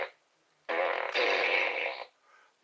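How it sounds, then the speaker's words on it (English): A battery-operated toy fart gun, outdoors in 12°F cold, lets out two long, loud buzzy blasts, close by, followed by a faint tail and the start of another burst. "My battery-operated fart gun."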